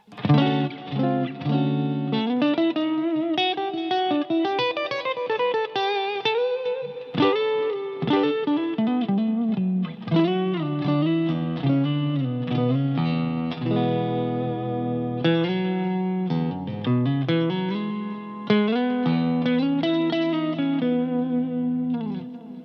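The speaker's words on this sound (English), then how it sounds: "I have delay and reverb going from the amp as well" An electric guitar plays a melodic line through a Blackstar Silverline Deluxe 100-watt digital amp head, notes trailing off with echoing delay repeats and a wash of reverb.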